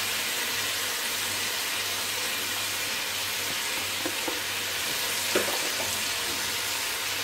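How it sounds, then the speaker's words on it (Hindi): Vegetables frying in a pan for hot and sour soup, a steady dense sizzle throughout with a few faint clinks near the end. "अब हम इसमें वेजिटेबल ऐड करेंगे"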